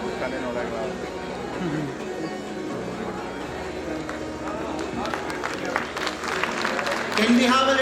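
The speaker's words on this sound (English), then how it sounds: "So a big round of applause, a big salute to their determination and the efforts of their parents as well" An audience at an awards ceremony for IIT-JEE achievers in Bengaluru applauds in a sustained, moderately loud crowd clapping that swells toward the end, mixed with cheers and chatter.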